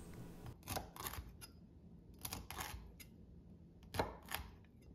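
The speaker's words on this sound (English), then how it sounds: "Now I'm just cutting into bite-sized pieces." A knife cuts crispy-skinned air fryer pork belly into bite-sized pieces, giving three quiet clusters of crackly crunches separated by pauses.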